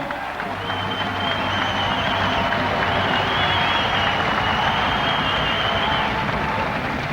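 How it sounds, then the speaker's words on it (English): An audience at a fight event in Australia claps loudly for the fighters, a dense, sustained burst of applause with some crowd noise mixed in, holding steady throughout. "Thank you very much for coming down to Australia. Please give them a hand."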